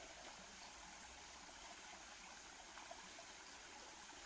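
A creek flows right beside a tent pitched for the night near Lower Shoals Shelter on the Pinhoti Trail, a soft, constant rushing wash of water with no voices.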